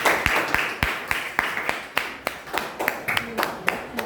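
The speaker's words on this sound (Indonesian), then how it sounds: "Silakan tepuk tangan dulu untuk kelompok selanjutnya." A class claps for the next discussion group during a lesson: a steady, rhythmic series of about a dozen sharp, evenly spaced claps, close and clear.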